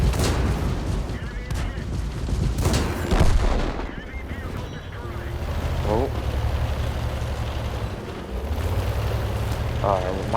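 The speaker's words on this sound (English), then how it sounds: "Oh, my own team just hit me." A tank shell strikes the player's tank in World of Tanks, heard as heavy booming impacts and rumbling blasts early on, then a lower engine-like drone with game effects.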